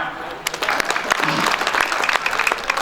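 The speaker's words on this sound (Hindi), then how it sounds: "तालियां।" A crowd claps loudly at a school educational institution event after a comic poem recital, with sharp individual claps standing out from a steady wash of applause for nearly three seconds.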